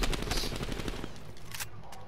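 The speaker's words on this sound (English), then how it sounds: "That was a homie shooting at me." Rapid automatic gunfire rattles in a dense burst from a Call of Duty Cold War match, then trails off into scattered, fainter shots and game noise.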